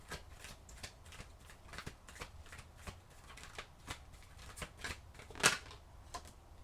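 Tarot oracle cards are shuffled in a quiet room, with soft repeated riffling flutters in an irregular rhythm and one sharper snap near the end.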